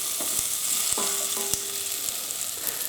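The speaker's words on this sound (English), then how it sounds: "give those a quick stir around" Carrots and cubed potatoes being stirred in a soup pot, with a steady sizzling hiss under a few close knocks and scrapes of the spoon against the pot.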